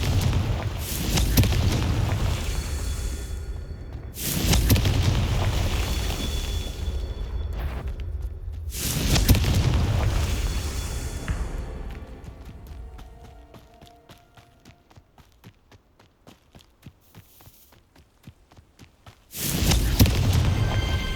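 A Confringo fire spell going off during a Merlin trial in the Hogwarts Legacy video game, heard as several loud, deep explosive booms with rumbling tails, separated by quieter stretches of footsteps and ambience.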